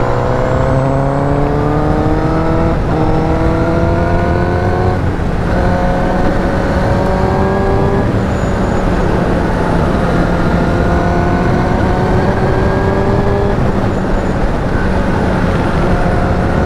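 A 2019 Honda CBR1000RR Fireblade motorcycle accelerates on a road, its engine note climbing repeatedly through the gears in rising stepped sweeps, loud and continuous with wind noise underneath.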